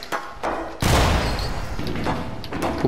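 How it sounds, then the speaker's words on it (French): A bomb explodes in the video game BADLAND, a sudden loud blast with a rumbling decay, preceded by a few small thumps and followed by lighter hits. "Vas-y, passe, je fais exploser la bombe."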